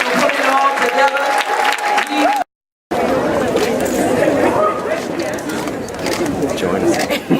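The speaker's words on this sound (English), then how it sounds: "give the ladies and gentlemen a wonderful round of applause for putting it all together" A crowd at a public event gives a round of applause, steady clapping blended with loud chatter and voices, broken by a short dropout before the noise resumes.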